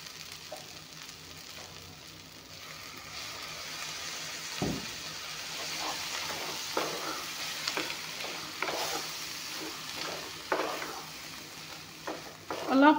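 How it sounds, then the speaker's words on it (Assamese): Hot water poured into a pan of leftover samosa curry, sizzling and bubbling as it starts to simmer, with a soft splash of steady frying noise that grows busier and louder toward the end. "এতিয়া অলপমান গৰম পানী দি ল'ম ইয়াতে।"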